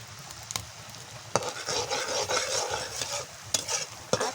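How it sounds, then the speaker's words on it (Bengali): Spices stir-fried for beef bhuna over a wood-fired stove, a steady sizzle and scraping stir with sharp clanks of a utensil against the pot, close and continuous with no talk. "একটু মশলাটা কষিয়ে নিতে হবে।"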